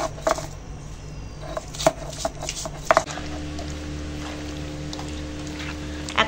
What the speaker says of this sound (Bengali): আর এইটা মাংস রান্না হবে, তার জন্য আদা রসুন বেটে নেবো